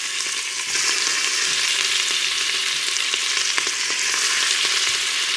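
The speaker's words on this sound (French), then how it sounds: "on va mettre à dorer les morceaux de bœuf" Beef pieces browning in a hot pan of melted olive oil and butter for beef and carrots in red wine: a loud, continuous sizzle and crackle with small pops and a few stirring scrapes, with no voices.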